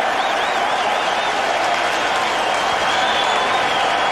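A stadium crowd at a rugby match, Stormers against the Waratahs in Sydney, rises into loud, sustained applause and cheering. The dense roar holds steady for the whole moment and buries any single voice.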